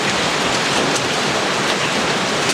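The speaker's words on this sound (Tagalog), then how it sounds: "Biglang umulan ng yelo." Sudden hail and rain pour down in a dense, steady hiss that stays loud and continuous, with no voices.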